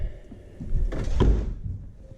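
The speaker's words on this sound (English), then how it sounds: "the doors close pretty mint on this truck" A single solid Chevrolet Colorado pickup truck door thunk around the middle, short and fairly close, with a brief rattle after, against a quiet low background.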